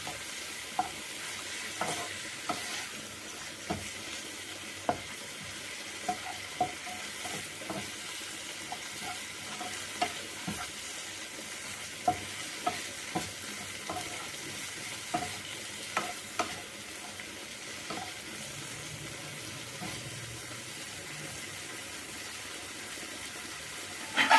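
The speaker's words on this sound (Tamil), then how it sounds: "பெப்பர், தேவையான அளவு சால்ட். நல்லா மிக்ஸ் பண்ணிக்கலாம்." Chicken momo filling seasoned with curry masala, pepper and salt is stirred in a pan, with regular scraping and clicking strokes of the spoon over a soft, continuous sizzle and no voices.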